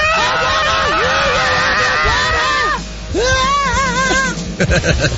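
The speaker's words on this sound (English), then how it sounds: "I think I did my scream." A man on a radio show lets out long, wavering screams in loud bursts, with a brief pause between them, followed by clipped shouts and crowd-like commotion in the studio.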